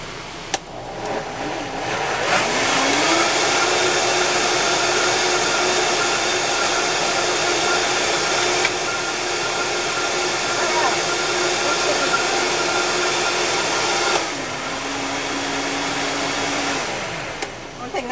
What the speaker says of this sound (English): Nice about a Vitamix is it really pulverizes everything really good.